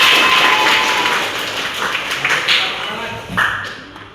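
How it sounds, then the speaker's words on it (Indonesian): Classroom audience clapping together in a teaching session, a dense burst of applause that stays fairly steady and then tapers, with some brighter taps and a voice briefly audible. "Tepuk tangan untuk kita semua."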